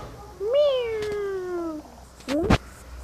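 A Minecraft cat meows with a long, drawn-out wail, then a shorter rising meow follows, both loud and close over a low background hum.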